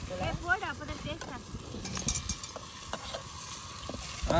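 Crushed ginger-garlic paste hits a hot pan in a village kitchen, giving a steady crackling sizzle with stirring scrapes, while voices talk over it near the start.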